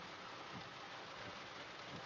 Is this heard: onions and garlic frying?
no